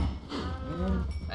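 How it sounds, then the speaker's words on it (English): Minecraft cows mooing as they are bred, a few low drawn-out bovine moos overlapping one another over quiet game background, with faint voice nearby. "Let's just try breeding a couple of cows."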